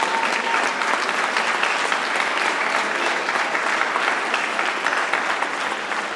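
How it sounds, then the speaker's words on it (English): An event audience gives a sustained round of applause for the presenters at an anniversary celebration: dense, steady clapping from a large crowd throughout. "If you could please give a round of applause for every single person who's presented at this event"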